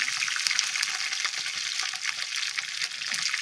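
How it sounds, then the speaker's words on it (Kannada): Curry leaves, cumin seeds and split chilies frying in hot oil for temple-style pulihora, a dense, even crackling sizzle with fine popping, close and steady throughout. "ಇದೆಲ್ಲ ಸ್ವಲ್ಪ ಫ್ರೈ ಮಾಡ್ಕೊಳ್ಳೋಣ"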